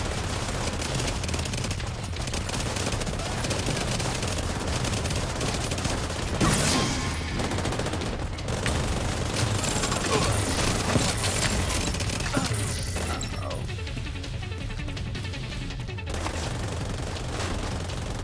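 Hostiles pour gunfire in The Division 2 during a Capitol Building assault, a loud unbroken fusillade of overlapping automatic bursts and single shots, with occasional heavier thumps.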